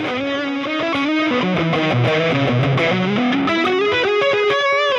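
Distorted electric guitar through a Mooer Prime P2 multi-effects processor on its stock tone, playing a busy melodic phrase with a thin, dry processed tone, steady and loud throughout with no talking.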